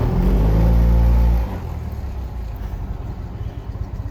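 A classic Fiat 500 with a swapped engine is put in gear with a grabby clutch. A loud, close engine drone drops abruptly into a lower, rougher rumble that continues to the end.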